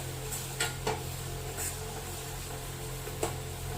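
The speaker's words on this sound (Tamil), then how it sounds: "இது நல்லா வதங்கிடுச்சு." Bombay chutney ingredients with green chillies, turmeric and chilli powder sautéing in a pan: a faint, low sizzle under a steady hum, punctuated by a few soft scrapes and clinks as the mixture is stirred.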